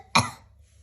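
A single short, sharp cough, performed by a voice imitating the sound while reading a Peppa Pig story aloud, is heard clearly and close up in a quiet room.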